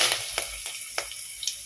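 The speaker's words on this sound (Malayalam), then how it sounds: "ഇനി നമുക്ക് കറിവേപ്പില ചേർക്കാം" Curry leaves dropped into hot oil for an okra milk curry, a hissing sizzle with a few sharp crackling pops, close and fairly soft, lasting under two seconds.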